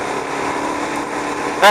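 Suzuki DRZ400SM supermoto engine drones steadily under heavy wind rush while riding, ending with a brief louder burst.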